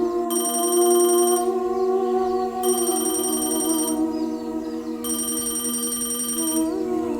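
A phone rings in three evenly spaced electronic bursts with a bright, buzzing tone, loud and close, over a sustained musical drone with no talking.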